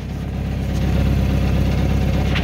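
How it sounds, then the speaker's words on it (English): A Mazda Miata NA6 engine idles with a low, uneven rumble and a slight metallic exhaust rattle buzz, steady and close throughout. "the exhaust rattle is pretty significant"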